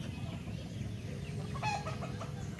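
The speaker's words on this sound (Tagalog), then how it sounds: "Ito alaga nilang manok dito kabuklod." Backyard chickens in a rural Filipino yard cluck in a low, steady murmur, with a rooster's crow rising briefly through the middle, fairly near and moderately quiet.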